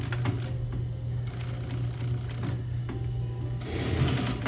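A sewing machine works slowly through thick blanket-coat fabric, its needle thumping in a steady, close mechanical rhythm with a constant motor hum underneath and no talk.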